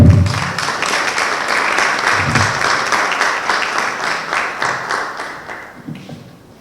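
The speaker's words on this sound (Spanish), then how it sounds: "Recibimos al doctor Javier Arévalo Vela con unas fuertes palmas, por favor." A conference crowd claps enthusiastically, a thick continuous wave of applause that gradually tapers off toward the end.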